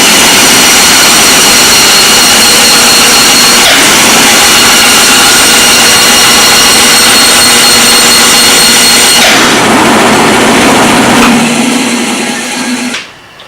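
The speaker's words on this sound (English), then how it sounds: "This is some pretty tough stuff, but it readily cuts on the bandsaw." A bandsaw cuts through tough Delrin plastic with a loud, steady, high mechanical whine that runs almost without a break, shifts in tone partway through, then winds down at the end.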